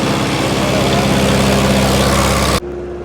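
A loud diesel engine running steadily nearby, a deep throbbing idle that suddenly drops away near the end.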